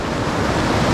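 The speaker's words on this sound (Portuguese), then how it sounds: "A água passando por baixo e a nossa cabeça no rumo da pedra." River water rushing beneath rocks under a bridge at Rio Que Cai, a loud, steady, close roar of flowing water with no break.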